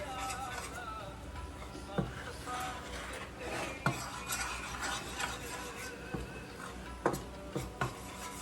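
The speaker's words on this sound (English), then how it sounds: "So you keep stirring it." Karah prashad is stirred in a pan while it browns, making soft, continuous scraping with occasional sharper clinks of the utensil against the metal. The sound is quiet and close.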